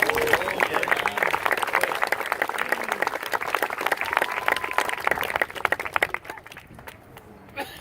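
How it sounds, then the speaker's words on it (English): Sustained applause from a large crowd, steady and dense for several seconds before tapering off to a few scattered claps. "Let's give that a round of applause."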